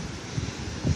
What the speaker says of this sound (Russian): Сегодня я на море.